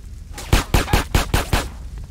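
Gunfire in the video game GTA San Andreas Definitive Edition: six loud, evenly spaced shots in a steady rhythm, close and dominant, with no talking.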